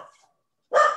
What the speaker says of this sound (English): I got some dogs barking